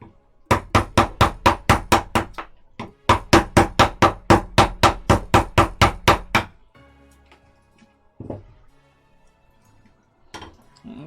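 A mallet pounds a wooden fish sculpture in two fast, even runs of loud, sharp strikes, then stops, leaving quiet room noise with a few faint knocks and handling sounds.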